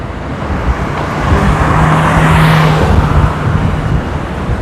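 A city bus bound for Bogor drives along loudly, with a constant engine drone and road roar that swells at the midpoint, as from the passing traffic around it.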